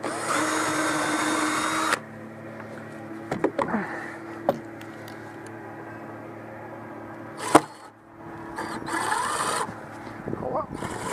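Cordless drill driving a screw into a wooden dock outdoors, a steady whirring burst that runs about two seconds, returns near the end, and is broken by knocks and handling noises.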